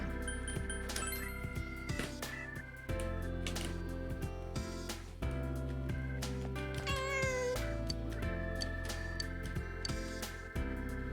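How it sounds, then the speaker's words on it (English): Persona 4 Golden game music plays continuously with a cat meowing over it, plus bright chiming and clinking effects. "Of course we'll pet the cat."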